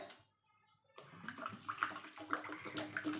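Water pours into a pot for rasmalai sugar syrup, a soft, close splashing and gurgling stream that starts after a brief quiet moment and continues with small bubbly spikes.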